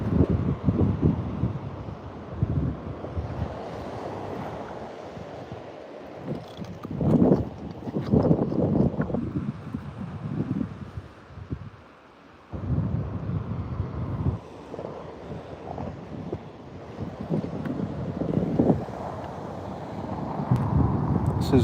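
Wind blowing on an outdoor beach during fossil hunting, buffeting the microphone in uneven gusts that swell and drop, with a few brief lulls between rough rushing stretches.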